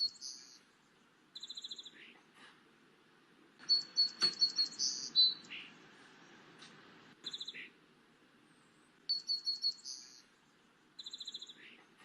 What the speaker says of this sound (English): listen to the sound of that beautiful bird